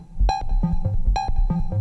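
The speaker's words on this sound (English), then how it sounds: "So that's oscillator 2 ring modded by oscillator 1." Cwejman SM-1 synthesizer with oscillator 2 ring modulated by oscillator 1, giving a metallic, clangorous tone pulsing in a repeating rhythmic pattern of short bass-heavy hits, heard alone and close.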